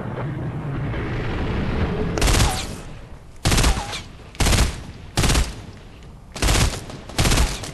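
Gunfire in the video game Fortnite, played on Xbox One: several loud, sharp bursts of shots spaced across the clip over a low background rumble, close and punchy, with no talk.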